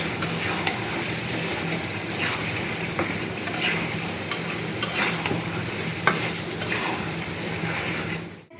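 Country chicken pieces go into hot oil, raising a continuous crackling sizzle with occasional sharp pops and stirring scrapes, steady and fairly close for several seconds, no one speaking.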